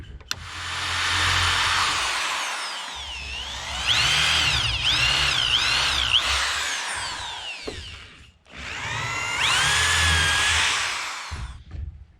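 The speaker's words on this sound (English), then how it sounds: "when I drill the clearance hole" A power drill whines loudly in two long runs, its pitch wavering as it bores a centered clearance hole during house framing, with a short pause between them.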